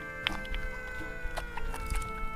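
Hens cluck and squawk in short, scattered calls near and far in a rural Lao village, over a steady background hum, with no talking.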